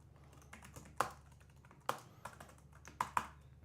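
Computer keyboard typing at a desk, a steady run of quiet key clicks with several sharper, louder keystrokes standing out, close and alone with no talking.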